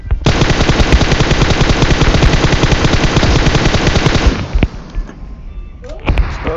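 Rapid automatic gunfire in the mobile game PUBG Mobile, aimed at an aircraft: a loud, dense stream of shots for about four seconds, then stopping, with a few scattered bursts and faint background sounds after.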